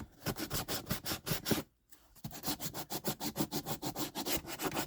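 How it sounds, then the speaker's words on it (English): Steady rhythmic rasping of sandpaper rubbed back and forth on a book cover, close up, with one brief pause partway through. "Kind of sanding off some of the extra stuff"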